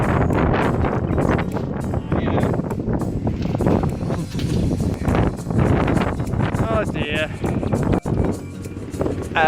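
Strong gale-force wind buffets the microphone outdoors at a campsite with a bell tent, a loud continuous roar with gusting surges, with people talking throughout.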